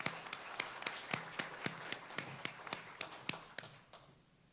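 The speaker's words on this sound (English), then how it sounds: "So please give them a round of applause for that." Audience applause at a mayoral forum, a brief scattered patter of claps that thins out and fades within a few seconds, fairly faint and distant in a hall.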